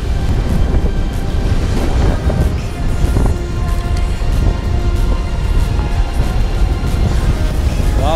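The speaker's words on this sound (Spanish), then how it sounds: "Wow, es que el viento, mano." Strong sea wind buffets the microphone while island fishing off Puerto Rico, a loud, close, gusty roar with blasts of low rumble and faint surf underneath throughout.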